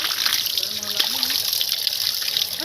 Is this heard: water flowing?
yes